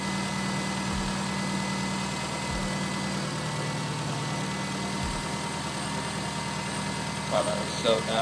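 A truck engine idles steadily with a faint ringing from the AC pulley, punctuated by a few soft low thumps and some light clatter near the end.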